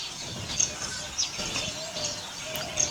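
An oriental magpie robin calls outdoors in a forested tiger reserve, with faint, short high chirps repeating a few times against a soft background hiss.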